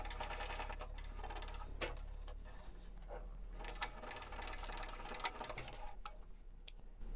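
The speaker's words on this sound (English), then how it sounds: "I will back stitch at the beginning and the end of the stitch line" A sewing machine back-stitching along a seam line on a wristlet, a steady continuous mechanical whir with faint ticking, heard close and alone without talk.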